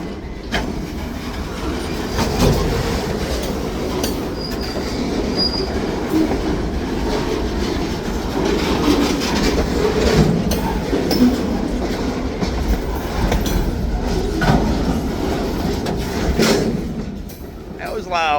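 Vintage freight train rolling past close by on steady track, a loud continuous rumble with rhythmic clickety-clack of wheels and occasional metallic squeals, with faint voices mixed in.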